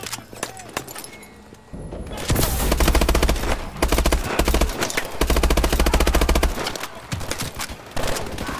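Rapid automatic gunfire fired from the hip in a Call of Duty Advanced Warfare match comes as loud, fast bursts of shots with brief pauses between them, following a quieter opening.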